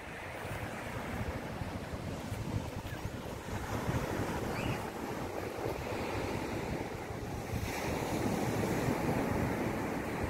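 Steady roar of ocean surf breaking and washing in, with wind buffeting the microphone throughout; no voices, just continuous rushing water.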